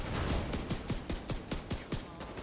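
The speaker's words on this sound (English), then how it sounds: "Why am I being shot with rockets?" Rockets are fired at the player in a video game, a rapid series of about a dozen whooshing bursts in quick rhythmic succession, each with a short descending swish.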